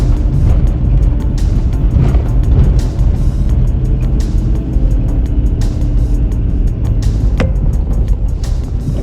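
A Mitsubishi Delica L400 van crawls off-road in low-range four-wheel drive, its engine holding a steady, loud drone over the rumble and clatter of the body across rough, rutted ground, with a brief squeak near the end.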